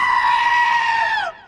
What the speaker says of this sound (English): is it becoming a requirement that today's animated films must have a screaming goat gag?